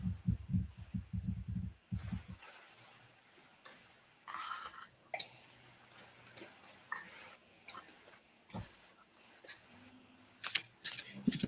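Quick riffling bursts of cards being shuffled, close up, followed by quieter handling and scattered clicks with soft background sounds.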